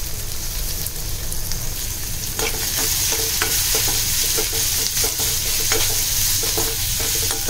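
Onion sautéing in hot oil with garlic and green chilli for a potato dish, a loud, dense, steady sizzle close up with repeated scraping stir strokes throughout, no voices.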